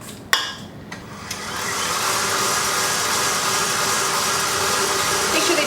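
An electric mixer beating eggs into pumpkin cupcake batter, starting after a few sharp knocks and then running as a steady, loud whirring hum without pause.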